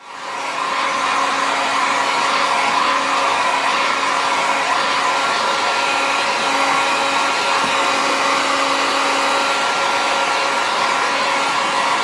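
A heat tool blows hot air to soften knife sheath material, giving a loud, steady, unbroken whooshing roar with a faint motor whine that holds constant throughout.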